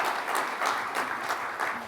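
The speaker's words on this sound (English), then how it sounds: "Round of applause." Audience applause at a summit panel session, steady clapping from a modest crowd lasting about two seconds at moderate distance, with no talk over it.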